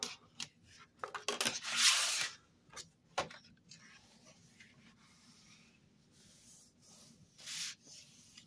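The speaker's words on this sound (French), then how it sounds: "Je vais marquer mon pli, mon deuxième pli à 16 cm." Paper is creased by hand to mark a fold for a handmade fold-out album: several close, dry rubbing and swishing strokes, one long scrape and a few soft taps, separated by quiet gaps.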